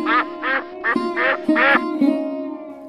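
An animated duck quacks five times in quick, evenly spaced, nasal bursts, loud and close, followed by a fading tonal tail.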